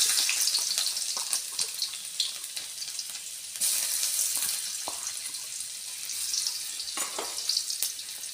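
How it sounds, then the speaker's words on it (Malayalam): Garlic and ginger frying in oil in a kadai over high flame for chilli chicken, a constant close bright sizzle with scattered stirring clicks and scrapes. "ആദ്യം തന്നെ ഒരു കടായി വെച്ചിട്ട് അതിലേക്ക് എണ്ണ ഒഴിച്ചു കൊടുക്കാം."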